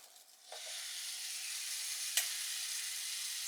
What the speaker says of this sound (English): Sizzle, sizzle, yum.